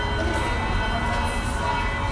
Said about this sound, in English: These are the bells from St. Peter's Square at noon.